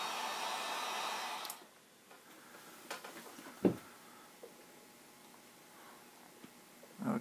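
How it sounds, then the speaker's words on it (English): A heat gun blows to shrink heat-shrink tubing over a soldered wire joint, a steady airy roar for about a second and a half that cuts off, followed by quiet handling clicks and taps. "Now we'll put the shrink tubing over the joint and heat it."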